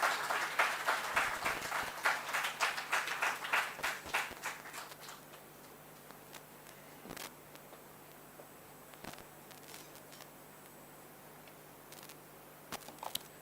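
An audience at an architecture conclave applauds in a brief burst of clapping that fades after about five seconds, leaving a quiet room with occasional taps and handling noises.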